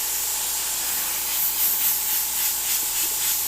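An airbrush sprays green illustration paint in a steady close hiss, with faint pulsing swells as the spray is worked over darker areas, no voices.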